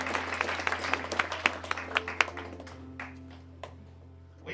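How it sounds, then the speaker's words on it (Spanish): A church congregation gives a loud round of applause for the King of Kings, dense clapping with sharp individual claps that thins out and fades toward the end. "den un aplauso más fuerte al Rey de Reyes y Señor de Señores"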